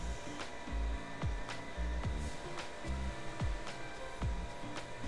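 A sewing machine runs steadily while stitching a double seam on children's clothing, with a continuous motor whir and rhythmic needle thumps repeating about once a second, close and alone.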